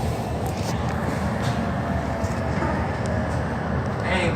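A coal hopper train rolls past at Port Kembla, giving a steady low rumble of wheels on track with faint metallic squeals and clanks. It is fairly close and continuous throughout.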